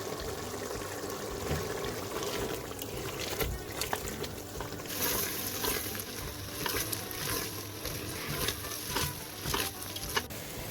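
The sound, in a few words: black chickpea curry frying on high flame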